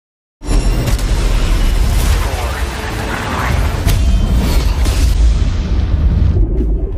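A deep, loud explosion destroying a base in an action film erupts suddenly after a brief silence, followed by a sustained roaring rumble and scattered crackles that fade slightly.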